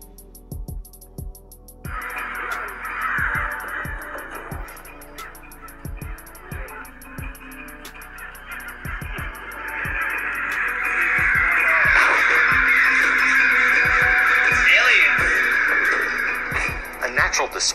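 Crows cawing in a played recording, a steady series of harsh calls repeating throughout, with a broad rushing noise growing louder in the second half and a voice speaking at times.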